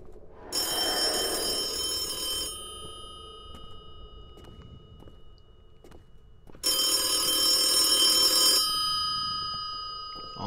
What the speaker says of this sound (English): Also the phone!